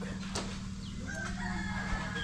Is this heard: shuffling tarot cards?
no